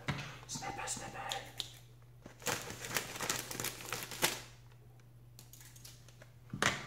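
A plastic snack bag of Trader Joe's frosted circus cookies is snipped open with scissors and crinkled in several close, rustling bursts, while a person talks quietly in between.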